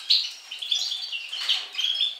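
A caged greenfinch and canary chirp in quick, bright, overlapping tweets and trills, close and fairly soft, with no talking.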